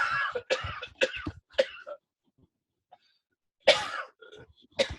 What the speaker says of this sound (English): Hold on, I got a cough for a minute.